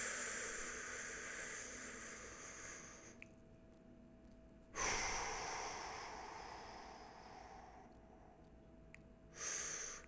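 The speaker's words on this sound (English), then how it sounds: "the best thing that I can do is doing deep breaths in a 6-count segment" Slow deep breaths taken in six-count segments, close and quiet, with long soft inhales and exhales separated by sharper audible breath onsets.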